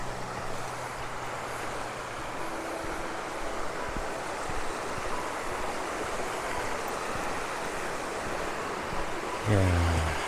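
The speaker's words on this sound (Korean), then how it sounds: "물도 많이 흐르고" Water rushing through a stream in a deep mountain valley, a constant broad wash of flow heard throughout, with a brief low rumble at the end.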